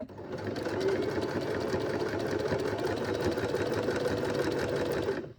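A sewing machine runs continuously while stitching a hem, a steady close mechanical whir and rapid needle chatter that holds evenly for several seconds without pause.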